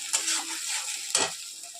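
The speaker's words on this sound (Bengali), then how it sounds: "কড়াইতে জিরে ফোড়ন দিয়ে মশলাটা দিয়ে কষে নেবো" A spice paste sizzles in hot oil over a cumin tempering in a wok. A loud, close hiss swells as the paste hits the oil, then a second sharp burst of sizzling follows, with no voices.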